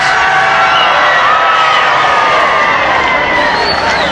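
A large crowd cheers and applauds President Kennedy on a Dallas street in 1963, a dense, continuous roar of voices and clapping, loud and sustained throughout.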